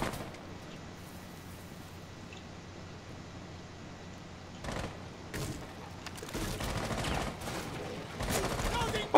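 Gunfire crackles in a video game shootout, starting quiet, then bursting into sharp volleys and rapid shots that grow denser and louder toward the end, with players talking over the action.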